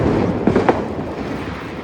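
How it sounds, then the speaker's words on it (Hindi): Firecrackers burst at a family Diwali celebration: a couple of sharp pops close together over a steady background hiss, then fading noise. "चलो पटाखे फोड़ने का टाइम हो गया।"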